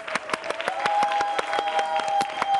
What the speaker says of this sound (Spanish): Un fuerte aplauso para Bebé Patri.